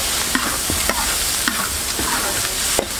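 Ginger and garlic stir-fry in a hot wok that already holds shrimp-head oil and chili sauce. A steady sizzle runs under sharp, regular scrapes and clacks of the spatula, loud and close.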